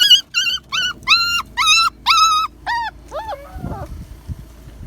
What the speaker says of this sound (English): these dogs are frightened.